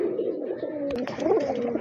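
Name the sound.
green-necked Giribaz pigeon cooing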